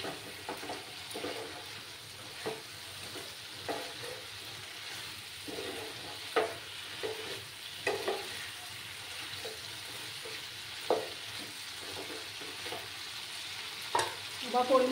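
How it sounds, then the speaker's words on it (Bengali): Cauliflower florets for a paneer cauliflower curry fry in a pan with a constant crackling sizzle, broken by periodic scraping stirs of a spoon, close by and with no voices. "এবার ফুলকপিগুলো দিয়ে দিচ্ছি আমি"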